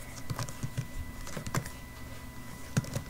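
Typing on a computer keyboard, with scattered key clicks in an irregular rhythm and a few louder strokes, heard close and alone over a low background hum.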